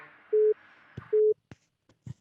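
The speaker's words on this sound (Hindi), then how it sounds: "रुक जा यार, उसी की कॉल आ रही है।" Call-waiting beeps sound during a phone call: two short, steady electronic tones spaced under a second apart, faint clicks and handling noise around them, with no talking.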